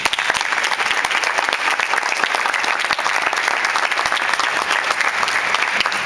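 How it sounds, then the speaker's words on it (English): An audience applauds scholarship recipients at an evening foundation event, sustained dense clapping from a large room, steady and loud from start to finish. "A round of applause for all of you"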